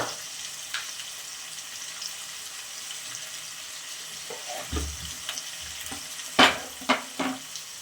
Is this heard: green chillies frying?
yes